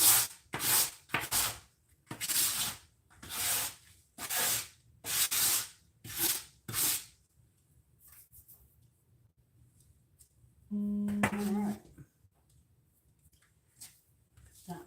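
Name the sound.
scraping leftover flour off the work surface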